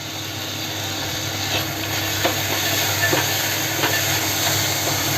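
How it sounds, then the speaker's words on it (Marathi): Cabbage and chana dal steam in a covered pot with water resting on the lid, giving a steady low hiss and a few faint, scattered ticks and clicks throughout. "झाकणावर पाणी ठेवून त्याला वाफ द्यायची."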